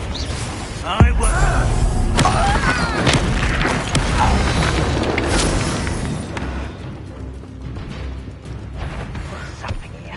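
Confringo blasting curse cast in the video game Hogwarts Legacy, a sharp booming impact that stands out in a dense, loud battle mix of thuds and crashes, with a voice speaking over it.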